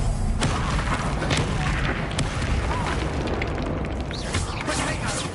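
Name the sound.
Bombarda spell explosion in video game Hogwarts Legacy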